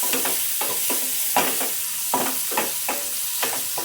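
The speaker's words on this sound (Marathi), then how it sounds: "आता आपण ह्या भाज्या टाकूया. या भाज्या आपल्याला चांगल्या परतून घ्यायच्या आहेत." Vegetables sauté in a hot pan for red pasta under a steady, loud sizzle, while a spoon scrapes and stirs in regular close strokes roughly every half second.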